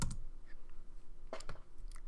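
A computer keyboard being typed on, with a few sharp, scattered key clicks close by in a quiet room and no talking.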